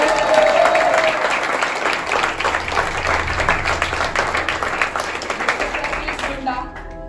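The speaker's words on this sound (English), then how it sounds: "And now one huge round of applause for our PR head." Loud, sustained applause and clapping from a full-house crowd at a college club meet, honoring the PR head, continuing steadily for several seconds before tapering off at the end.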